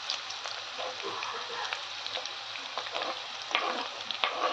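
Garlic frying in a pan, a soft continuous sizzle and crackle, fairly quiet and close, with a few stirring scrapes and no speech.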